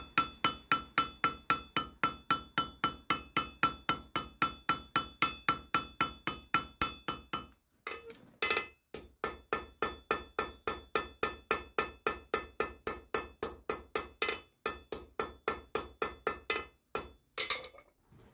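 Rapid, steady metallic hammer blows on an anvil while forging a medieval bodkin arrowhead ring out in long regular bursts, with a brief pause midway and a few scattered strikes near the end.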